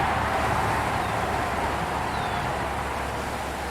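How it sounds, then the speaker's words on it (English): Road traffic going by near a green space between two Great Lakes in Buffalo, a steady broadband rush of passing vehicles with no distinct pauses, moderately loud and continuous. "what the traffic sounds like going by"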